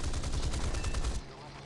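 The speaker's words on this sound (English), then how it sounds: "nice critical hits, sustained fire on the enemy" Aircraft guns in War Thunder fire a sustained, dense burst at an enemy plane, loud and close for over a second before cutting off into the engine drone.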